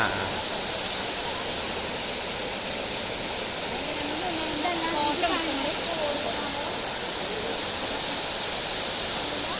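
Paloor Kotta waterfall with rushing water, a constant loud hissing roar that stays steady throughout, and a faint voice heard under it partway through.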